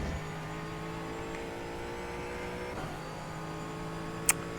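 Mustang race car in a racing video game at Okayama track, its engine holding a steady, sustained drone at full power with a faint whine layered on top and a brief sharp click near the end.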